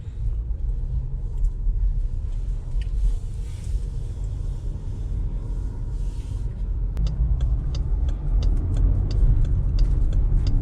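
A car drives along an empty highway in the small hours with no other traffic, a steady loud road rumble and engine drone throughout, joined near the end by a rapid ticking, likely a turn signal.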